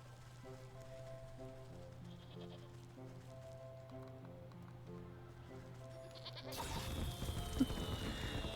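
A sheep in the video game Wytchwood bleats in short repeated calls over a soft musical background, and a louder burst of sound effects comes in near the end.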